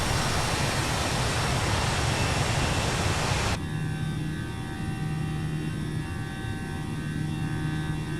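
Simulated Airbus A320 jet taking off in Microsoft Flight Simulator on Xbox Series S, a loud broadband engine roar that holds steady, then drops to a quieter cabin hum with steady tones after a few seconds.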